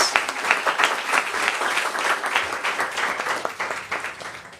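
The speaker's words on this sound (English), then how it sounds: "Let's have a round of applause for those who've been on the front lines." An audience in New York City applauds tenant organization leaders at a mayoral housing announcement, a full, continuous round of clapping from many hands with slight swells and dips, moderately loud throughout.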